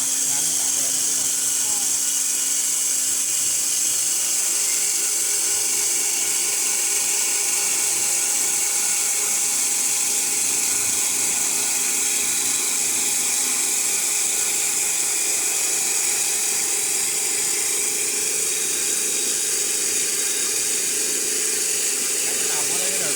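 A sanding wheel spins on an automatic CNC woodworking lathe making walking sticks and canes, giving a steady high-pitched whine and hiss that stays constant and close for the whole stretch.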